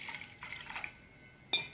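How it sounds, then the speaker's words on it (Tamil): About 250 ml of water is poured into pani puri paste from a ready-mix kit, giving a soft, steady splashing pour that stays quiet and unaccompanied by talk. "இப்போ இதிலே வந்து 250 ml தண்ணி இதல ஊத்திரலாம்"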